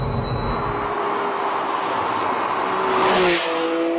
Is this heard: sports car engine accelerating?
yes